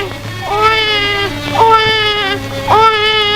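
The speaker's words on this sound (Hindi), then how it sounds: "ये बच्चे के रोने की आवाज कहाँ से आ रही है?" A baby cries in a Pakistani film scene, wailing in three rising, sobbing bursts, loud and close over a low background hum.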